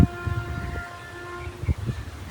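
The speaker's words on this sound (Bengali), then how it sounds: "হর্নটা শুনতে পাচ্ছ ভাই সাব?" A Lallaguda-shed WAP-7 electric locomotive hauling the Kolkata–Sairang Express sounds a long, steady, tonal horn that seems somewhat distant, with a few low thumps of passing rail noise underneath.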